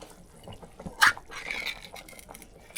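Canned Heinz tomato soup is poured into pea soup cooking on a hot tent stove outdoors, with one brief wet splash and glug followed by soft liquid sounds, faint and close, without talk.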